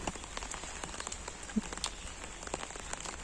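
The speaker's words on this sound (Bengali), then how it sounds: "এই যে বৃষ্টি জোরে হচ্ছে না, চারদিকে কেমন হয়ে আছে।" Light rain patters softly and steadily, with scattered faint drops tapping on surfaces and no voices.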